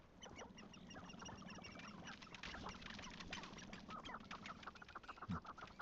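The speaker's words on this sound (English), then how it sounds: "Chicken." Chickens clucking and squawking in a Hogwarts Legacy game scene, a busy flurry of quiet, overlapping bird calls and scratchy peeps throughout, faint and close, no talk.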